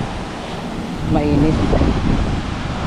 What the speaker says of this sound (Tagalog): Malakas naman ang hangin